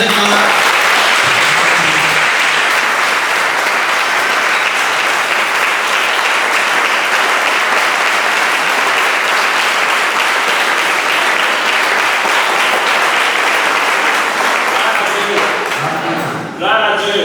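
A church congregation at an evening evangelism service applauds and cheers together, a dense, sustained wall of clapping and acclamation that stays loud throughout before easing at the very end.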